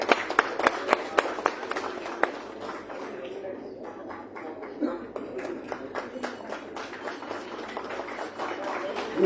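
Audience applause at an international academic conference in a hall, a steady patter of clapping from many hands running throughout at moderate level, with sharper individual claps near the start.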